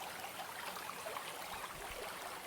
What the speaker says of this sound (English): the sound of rushing water filled the domain around her